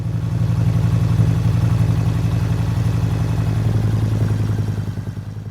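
A Yamaha MT-01 motorcycle idles on its own, its engine chugging in a steady, loud, low rhythmic pulse that holds evenly and eases slightly toward the end.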